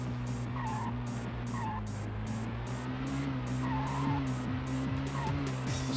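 A purple car races in the PS1 game Speed Machines, its engine holding a steady, loud droning hum with slight pitch shifts throughout, alone without talk.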